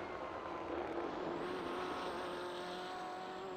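A BMW M8 GTE race car in the iRacing simulator holds a steady, droning engine note with a faint rising whine, continuous and unbroken with no voices.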